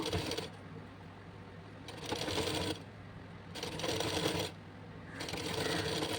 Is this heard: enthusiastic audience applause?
no